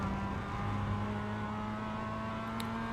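In iRacing, a Mazda MX5 engine at full throttle holds a steady rising whine with strong, even tone and no pauses, heard close and loud without talk.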